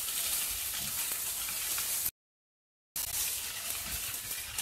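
Sliced onions frying over high heat in a pan, a steady, dense sizzle close by that runs continuously, cuts out to brief silence, then resumes at the same level.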